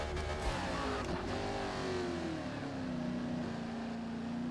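Camaro race car engine in the Forza Motorsport video game, a fairly quiet, continuous engine drone whose pitch gradually falls as the car drives on without shifting.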